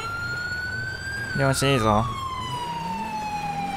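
Police car sirens in the GTA5 video game wail steadily from a distance and keep going, as a brief burst of a man's speech breaks in partway through.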